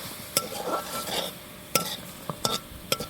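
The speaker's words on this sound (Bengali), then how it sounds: "কুমড়া বড়ি আলু একসঙ্গে মশলার মধ্যে কষিয়ে নেব" A spatula scrapes and clinks in a pan while potatoes and pumpkin bori are stir-fried in spice masala, with a few sharp metallic taps over a soft sizzle, no voices.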